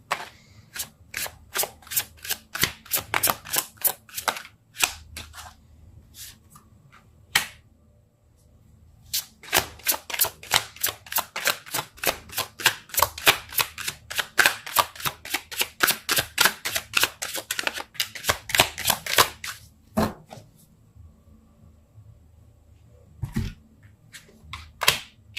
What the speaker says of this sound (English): I just can't shuffle